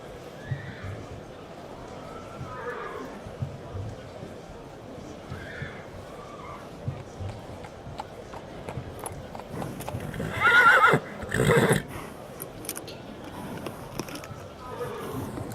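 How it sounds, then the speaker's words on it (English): A horse at stables near a Roman circus arena whinnies and its hooves clip-clop on the ground, with a louder burst of stamping and snorting close by midway through, over a quiet stable ambience. "This is your horse."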